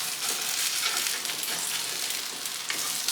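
An egg sizzles and crackles in a hot frying pan, a steady bright hiss with small pops, close up and moderately quiet.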